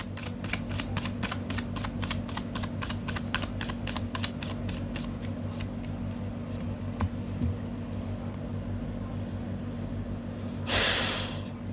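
Tarot cards are shuffled by hand in a quick run of crisp, evenly spaced flicks that slow and thin out, then a short rushing burst near the end, over a low steady hum.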